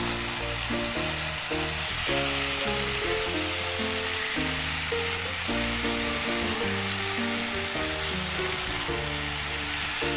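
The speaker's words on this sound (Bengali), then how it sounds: "এখন আলুটাও দিয়ে দেবো একসাথে, আর একটু কষে নেবো" Potatoes frying with spice paste in a pan alongside raw jackfruit and chicken, a loud, dense, unbroken sizzle with a tonal background layer beneath it and no speech.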